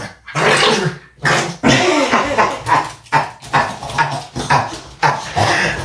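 A dog whimpers and yelps in repeated short, close cries, several per second, loud and strained, while someone talks soothingly nearby.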